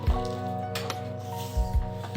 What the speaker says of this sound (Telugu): ఇదే పిండిని ఇలా మిక్స్ చేసుకోవాలి